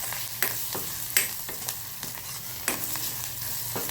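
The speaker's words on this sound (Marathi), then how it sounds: "यात हिंग सुद्धा टाकून घेऊ, थोडंसं हिंग टाकलेलं आहे चिमूटभर आणि हे परतून घेऊया छानपैकी।" Mung dal with a pinch of asafoetida is stirred and fried in a pan, a soft steady sizzle punctuated by clear clinks and scrapes of a spoon against the metal, fairly quiet and close.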